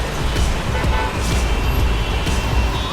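Dense Delhi road traffic with a constant loud engine rumble and short car horn toots sounding now and then over the din.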